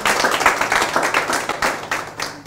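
Housemates clapping for themselves after a runway presentation, a small group's uneven, fairly close handclaps swelling and fading in quick bursts.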